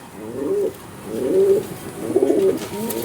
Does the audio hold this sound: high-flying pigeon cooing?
yes